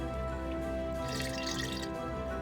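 Spring of untainted living water in RuneScape 3, a soft watery trickle with light drips swelling in the middle and easing off, steady under a low game ambience hum.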